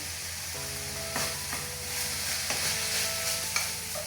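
Ground beef sizzling and nearly cooked in a hot pan for beef-stuffed courgettes, a moderate crackle broken by a few stirring scrapes and clatters, no talking.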